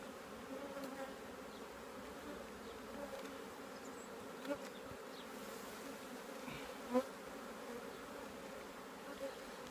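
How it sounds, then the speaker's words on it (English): A steady hum of many honeybees buzzing close around an open hive, continuous and even, with a couple of faint clicks along the way. "these bees are getting really stingy"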